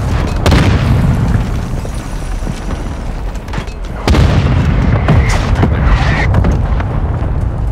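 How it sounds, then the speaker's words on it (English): Heavy booming mortar explosions in a first-person shooter game, a loud sustained roar of blasts with a fresh burst around the midpoint and scattered sharp pops above the rumble. "Friendly mortar strike on the way."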